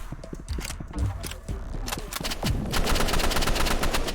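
Rapid automatic gunfire crackles through a Roblox shooter game, dense bursts of shots layered with clattering effects, loud and continuous, with faint voice sounds underneath.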